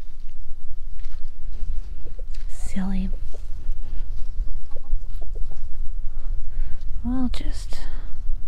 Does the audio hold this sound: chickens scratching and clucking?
yes